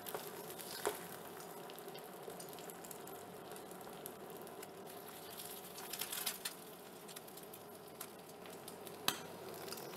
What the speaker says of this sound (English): it's, as you can see, it's frying perfectly